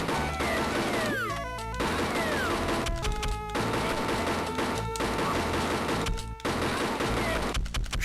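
Gunshots and crashing impacts from the Game Boy Advance shooting game Chicken Shoot, rapid bursts of sharp shots over continuous game music and effects, loud and busy throughout with brief pauses.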